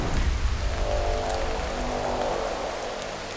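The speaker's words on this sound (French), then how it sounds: "C'est notre première pluie sur l'aventure" Rain falling on a survival camp shelter in Fiji, a steady dense hiss of drops with a few brief louder taps, continuous and close.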